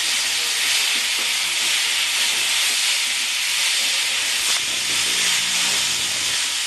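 A paste of turmeric and salt hisses and sizzles steadily and loudly in a hot pan, a dense unbroken frying noise with no talk.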